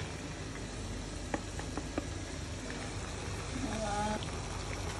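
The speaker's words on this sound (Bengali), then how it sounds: "আপনাদের ভাইয়া দেখেন সরষে ইলিশ রান্না করতেছে।" Mustard hilsa fish cooking in a pan, a steady, fairly quiet sizzle and hiss with a few light knocks of stirring, heard close up throughout.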